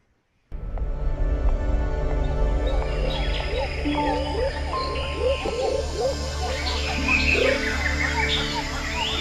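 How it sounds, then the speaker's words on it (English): Song of the Kauai, a formerly common Hawaiian forest bird now extinct, sounds as repeated rising and falling whistled phrases and chirps that are clear and fairly close over a low background rumble. "the Kauai, a formerly common bird in Hawaii"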